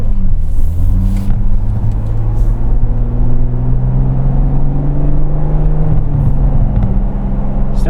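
A 2026 Ford Bronco Raptor's engine on a test drive, heard from inside as a loud, steady low rumble with rising and falling harmonic tones as it accelerates and shifts, continuous throughout.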